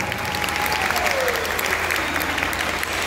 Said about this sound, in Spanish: Gracias por sus aplausos.